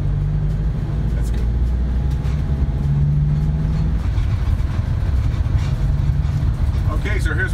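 An RV drives along narrow roads in England, a steady, loud engine and road rumble running throughout with a sustained low drone, while people talk over it inside the cab.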